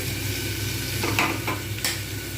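Potatoes for ghugni sizzle loudly in a pan as the lid comes off and a spoon stirs them, with a few brief scraping strokes over a constant close frying hiss.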